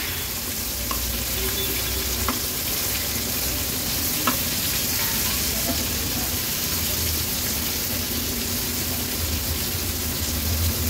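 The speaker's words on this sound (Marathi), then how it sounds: "वाकट्या तळायला काही जास्त वेळ लागत नाही, झटपट अशा ह्या वाकट्या तळून होतात।" Dried fish (vakti) frying in hot oil for an Agri-Koli style fish thali, a steady dense sizzle running unbroken throughout with faint low rumble beneath and a few small clicks.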